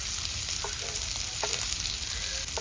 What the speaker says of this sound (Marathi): कांदा थोडा मऊ होईपर्यंत आपण हा शिजवून घेऊया